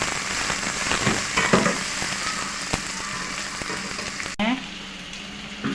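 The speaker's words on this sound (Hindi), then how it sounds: "आधी कच्ची पक्की प्याज में हम कीमा डालेंगे।" Minced meat hits half-cooked onions in hot oil for khara masala keema, giving a steady close sizzle with a few spoon scrapes and a brief clank near the end.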